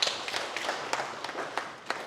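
A live audience at a business clinic event in Tooro kingdom claps briefly, scattered sharp hand claps popping up in a loose, thin pattern rather than full sustained applause.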